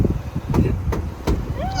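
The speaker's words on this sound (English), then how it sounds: "these hornbills are just around the car, and this one here, he's just been whacking the car" A hornbill in Kruger National Park strikes the front of a car, delivering three sharp knocks spaced under half a second apart over a low vehicle rumble.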